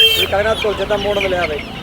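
Several chickens, including Kadaknath hens, cluck close by in short, overlapping bursts, a busy steady chatter of hens with no pauses.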